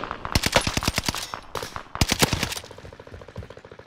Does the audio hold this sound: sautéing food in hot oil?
no